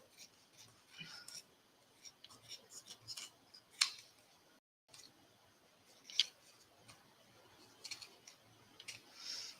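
Scissors snip through quilters batting while cutting around a foot shape, with soft irregular clicks and crisp cuts, faint and close, in an otherwise quiet room.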